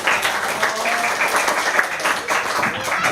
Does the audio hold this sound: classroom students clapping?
yes